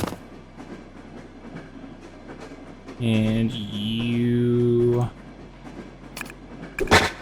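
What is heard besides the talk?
train in TMNT Tactical Takedown video game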